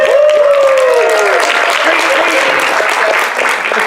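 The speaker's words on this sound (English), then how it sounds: "Can we give a round of applause for that?" Audience applause at a furry convention's closing remarks, a dense wash of many hands clapping steadily for four seconds, with cheers and whoops rising over it near the start.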